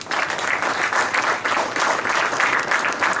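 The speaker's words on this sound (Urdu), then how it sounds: "میں آپ سب سے درخواست کروں گا کہ تالیوں کی گونج میں ویلکم کریں سمیر حقی" Steady applause from an audience at a certificate awards ceremony, welcoming a speaker to the stage; dense, sustained clapping that swells in waves throughout, with no talk over it.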